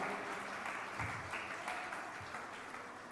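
Steady applause from a church congregation, continuous clapping that stays even and fairly distant throughout, with no voices standing out.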